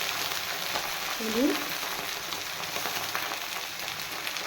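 Eggplant pieces with green chilli, turmeric and salt fry in a pan for a doi begun dish, giving a steady close sizzle with a brief stirring scrape near the middle and no voices.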